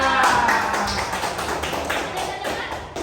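Applause from a classroom audience for student groups during a religious education lesson: dense, steady clapping filling the room for about three seconds.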